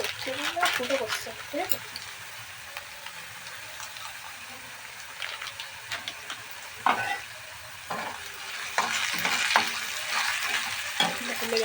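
Peanuts frying and being stirred in a pan: a steady sizzle with scraping stir strokes and clatter, a voice talking over it now and then.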